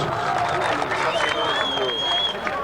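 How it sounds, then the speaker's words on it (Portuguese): A rodeo crowd applauds and cheers a rider, a dense wash of clapping and crowd noise under a loud announcer's voice. "Merece palmas, merece palmas, merece palmas"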